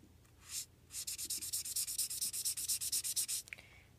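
A fine-nib artist marker colours in on paper with a quick run of about twenty close, scratchy back-and-forth strokes, quiet and alone.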